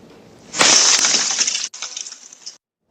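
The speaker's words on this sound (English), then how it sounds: "You just heard the sound of a meteorite crashing to the ground." A meteorite crashes to the ground on Prince Edward Island, Canada, caught outdoors in daylight by a Ring doorbell camera: a sudden loud crackling, glassy smash lasting about a second, then a brief scattering rattle before silence.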